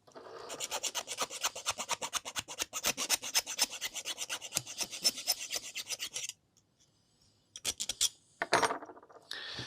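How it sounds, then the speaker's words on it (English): A hand file rasps along the inner edges of wooden model aircraft parts for a 1/16 Sopwith Camel kit, quick regular back-and-forth strokes close up, stopping briefly before a few more scrapes and handling clatter. "on the inner edges this time I'm going to have to just take my file and just take out all the flashing"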